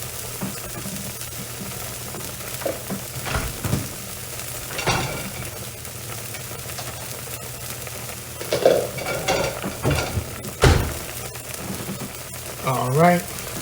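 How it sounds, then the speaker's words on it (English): Eggs cooking slowly in a pan give a low, steady sizzle, broken by a few clinks and scrapes of utensils against cookware, with a brief murmur of voice near the end. "there's my eggs. And I'm just going to slowly let these cook."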